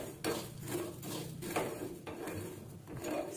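Sugar and roasted sesame seeds stirred in a pan for til vadi, a rhythmic series of soft scrapes and knocks from the spoon, roughly every half second, close and without talk.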